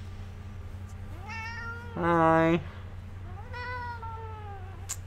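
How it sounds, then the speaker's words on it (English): A cat meows several times, drawn-out rising and falling cries with one louder, sharper meow in the middle, heard close over a low hum while a person briefly speaks. "Oh my god, it's a cat."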